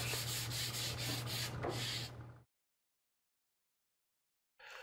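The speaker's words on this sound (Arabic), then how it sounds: "هنضفها بورقة صنفرة ونكمل" Steady scratchy rubbing of sandpaper against wood for about two seconds, close and fairly loud, then abrupt silence before a brief noise at the end.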